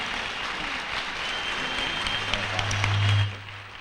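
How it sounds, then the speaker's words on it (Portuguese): Applause from a crowd, steady clapping filling the room for a few seconds before tapering off. "Uma salva de palmas."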